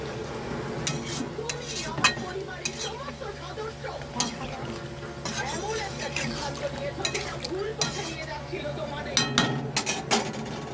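A spoon stirs chicken curry in a pot just after water has gone in. Repeated metallic scrapes and clinks come at an uneven pace over a low steady hum, with a faint murmur in the background.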